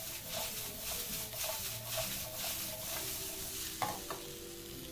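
Samosa filling with meat and white onion being stirred in a pan, a steady sizzle with regular spoon scrapes and a couple of knocks toward the end.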